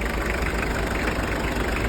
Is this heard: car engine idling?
yes